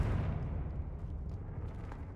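Confringo fire spell explosion in Hogwarts Legacy: a low boom at the start that decays into a rumbling, crackling tail with scattered small pops, fading over about two seconds.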